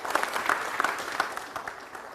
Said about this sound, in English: Let's have a round of applause for Brian.